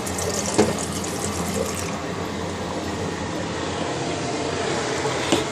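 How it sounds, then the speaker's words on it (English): Steady running tap water splashing into a sink while a baby bottle is rinsed, a continuous broadband rush at close range with a couple of brief knocks and no talking. "I'm gonna rinse off the bottle."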